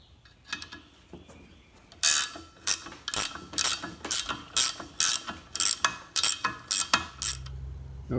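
A ratchet wrench clicks in quick bursts while removing bearing retainer and backing plate bolts from a Ford 9-inch rear end, each sharp, close ratcheting burst repeated more than a dozen times in a steady rhythm.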